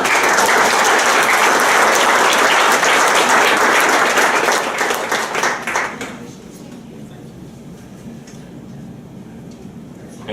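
At a city council meeting, the room gives Tiffany a full round of applause. Steady, loud clapping lasts about six seconds and then stops, leaving quiet room tone and a voice.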